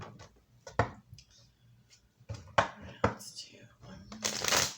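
Tarot cards are shuffled outdoors in several short riffling bursts and taps, close and fairly quiet, with a faint voice between them.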